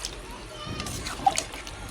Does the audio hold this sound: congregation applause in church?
no